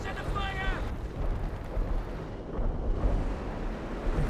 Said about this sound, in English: Some assault artillery coming down in this sector.